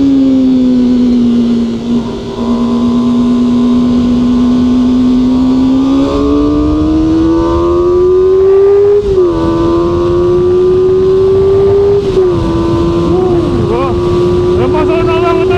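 QJMOTOR SRK 450 RR middleweight motorcycle engine revving loudly and steadily up close, its pitch climbing gradually and dipping briefly between rev surges, continuous throughout.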